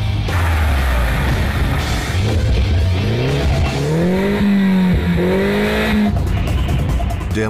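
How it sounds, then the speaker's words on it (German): An Arden-tuned Mini John Cooper Works AM3 roars loudly nearby, its engine note climbing and falling through several revving pulls with a throaty, deep rasp over road and tire noise. "Der Motor entwickelt einen unglaublich tiefen, röhrenden Sound"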